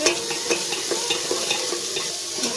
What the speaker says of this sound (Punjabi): ਹੁਣ ਅਸੀਂ ਇਹਦੇ ਵਿੱਚ ਐਡ ਕਰਦੇ ਆ ਜੀ ਪਿਆਜ਼ ਮਿਕਸ ਕਰਦੇ ਆ ਜੀ